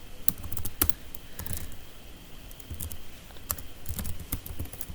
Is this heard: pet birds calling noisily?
no